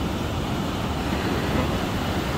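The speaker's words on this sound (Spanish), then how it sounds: "Miren nomás las olas que vienen." Ocean surf washing onto the shore at low tide in Santa Cruz, California, a steady broadband roar with no distinct individual breaks, heard alone and close with some wind over the microphone.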